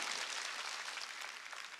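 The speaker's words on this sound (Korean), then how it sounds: "박수 좀 쳐줘요" A church congregation at a Sunday worship service applauds, a faint, distant wash of many hands clapping steadily for a moment.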